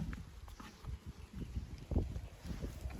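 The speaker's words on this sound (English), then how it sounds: "It's a bit windy" Gusty outdoor wind buffets the microphone in uneven low rumbling bursts, loud and close, with a few faint clicks and rustles and no speech.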